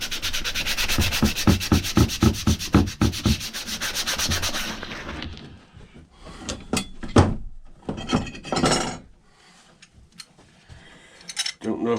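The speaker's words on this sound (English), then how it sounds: "Don't know if my clamp's going to be big enough to hold this to sand it." Hand sanding on an axe during restoration, with a fast rhythmic series of rasping back-and-forth strokes, then a pause and a few slower, scattered scrubbing strokes, close and loud.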